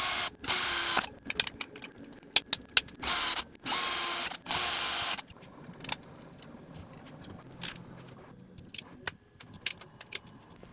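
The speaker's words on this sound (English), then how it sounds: "Now I can transfer and drill all the mounting holes." Power drill boring mounting holes in a standing desk build, several loud bursts of whirring in the first half followed by quieter clicks and tool handling.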